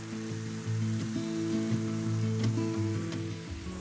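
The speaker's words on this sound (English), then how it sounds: "Saute for another couple of minutes." Basil curry fried rice sautéing in a pan with soy sauce, a continuous close sizzle and crackle with occasional stirring clicks, steady and fairly loud, no voices.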